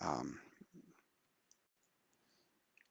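A computer mouse gives a few faint, sharp clicks spaced apart in a quiet room, following a short moment of speech at the start.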